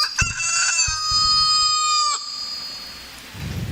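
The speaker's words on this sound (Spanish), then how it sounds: "Y enseguida cantó un gallo." A rooster crows once, a loud, near, drawn-out call that ends abruptly, with faint rustling and clucking around it and no speech.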